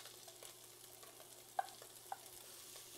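Onions dropped into a little hot oil for Finnish cannelloni filling give a faint, low sizzle with a couple of brief clinks from the pan, no talking.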